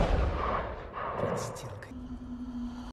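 A sniper rifle shot rings out in a Stalingrad war film, one heavy booming report with a rumbling tail under narration and background score.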